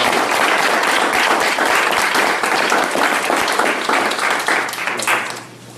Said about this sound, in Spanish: no queda más que aplaudirle.